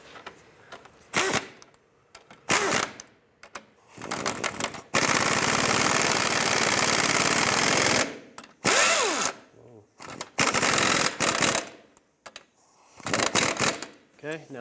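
Lower control arm nuts on a 1997-2001 Lexus ES 300 being run on with tools, with bursts of rapid mechanical rattling and whirring, one long sustained run in the middle and shorter spurts around it, close and loud.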